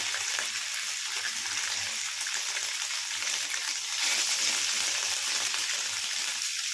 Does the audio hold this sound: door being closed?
no